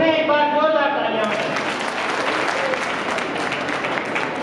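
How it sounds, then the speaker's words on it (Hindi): An audience at a cultural performance bursts into sustained, even applause right after a host's announcement, the dense clapping filling the space for several seconds. "इस सांस्कृतिक प्रस्तुति के लिए पुनः एक बार जोरदार तालियां।"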